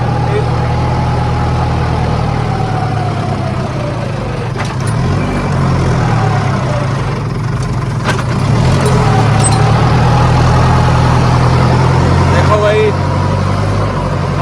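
A 4x4 tractor engine runs steadily with a deep, continuous rumble and low hum, loud and close, with faint clanks scattered over it and someone talking throughout.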